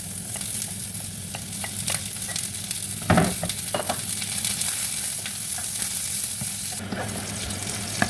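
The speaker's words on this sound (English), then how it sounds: "So I want to fry the veggies, guys." Onions fry in a pan for coconut rice, a continuous close sizzle with scattered pops and scrapes as they are stirred, and one sharper clatter midway.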